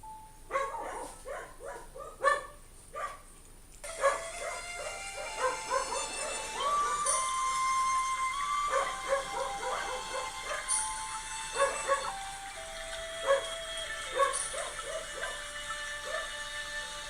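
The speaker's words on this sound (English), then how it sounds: "My dogs are acting up." Several dogs barking, yipping and whimpering nearby in a home, a rapid burst of barks followed by continuous whiny whimpering and scattered yips, fairly quiet overall.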